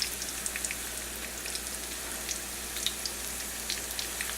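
Chicken nuggets frying in hot oil, a steady dense sizzle with scattered small pops and crackles, close and continuous with no voices.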